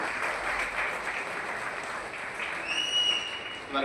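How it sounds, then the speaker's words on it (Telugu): Continuous, slightly muffled audience applause carried over a phone or online call during a business opportunity meeting, a steady wash of clapping lasting the whole stretch without any voice over it. "వాళ్ళ కోసం గ్రేట్ క్లాప్ వచ్చినాయి."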